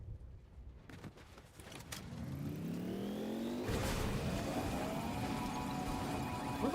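Car engine in Fortnite Chapter 6 Season 4 zero build, revving up and accelerating with rising gear whines, growing steadily louder and closer into a sustained driving roar with a shift partway through.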